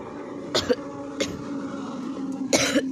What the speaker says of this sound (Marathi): किती खोकला येतोय तुला?